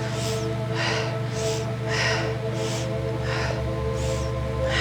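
Deep, rhythmic breathing during a yoga lunge, about eight slow breaths in and out over a steady background hum.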